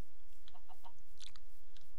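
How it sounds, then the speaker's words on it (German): Chickens clucking in the Minecraft video game, a few short soft clucks scattered over a quiet background hiss, fairly near. "Hier hat es noch Hühner, genau."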